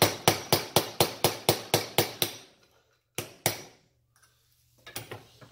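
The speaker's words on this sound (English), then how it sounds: "giving a couple whacks on this top nut counterclockwise" Hammer whacking the top nut of a KTM/Husqvarna SX-E 5 rear shock absorber held in a vise, a rapid run of about ten sharp metallic blows, then two isolated hits and a few softer taps, close and loud.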